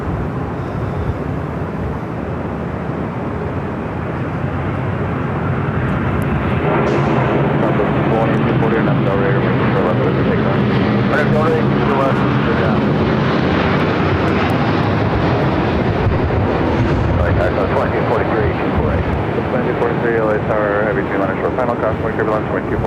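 A Korean Air airliner at LAX produces a loud, sustained jet roar that builds over the first seconds and stays strong throughout, with talk heard faintly beneath it.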